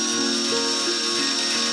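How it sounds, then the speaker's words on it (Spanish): A steady, high-pitched power drill whines continuously through the whole moment, close by, with no talking. "empezamos a hacer un taladrito por el centro"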